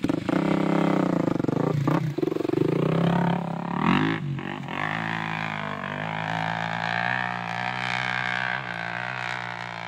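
A Kawasaki KLX250 dirt bike strains up a steep hill, its engine loud and close with a steady high rev and a couple of brief throttle dips early on, holding a droning pitch throughout with no talk.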